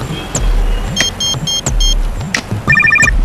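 A telephone rings in short repeated electronic bursts during a call, loud and close, with traffic and other noises around it.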